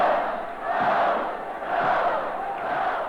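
A large football crowd cheers and shouts in a sustained, swelling roar that rises and dips in waves, with no clear individual voices.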